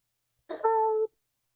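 A person imitates a cat's meow in one short, clear, close call that rises briefly and then holds a steady pitch for about half a second before stopping, with silence around it.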